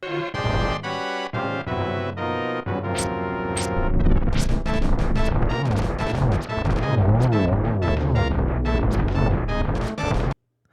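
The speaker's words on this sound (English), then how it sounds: "And this is the sound of a boss fight." Loud, frantic boss fight music from The Legend of Zelda: A Link to the Past, with pounding beats and dense, clashing tones, plays continuously, then cuts off.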